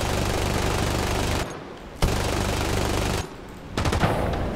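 Aircraft machine guns fire in War Thunder in long, loud, dense bursts. A sustained stream breaks off briefly, resumes, then stops. A short, faint mechanical lull follows before firing sputters back in.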